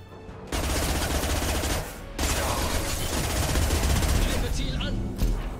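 Sustained rapid gunfire in the video game Mass Effect Legendary Edition, a dense, loud fusillade that runs almost continuously with a short break, with a faint voice beneath.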